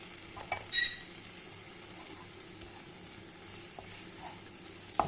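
Onions fry in a pan with turmeric and chili powder, giving a faint, steady sizzle with a few soft clinks and stirring sounds.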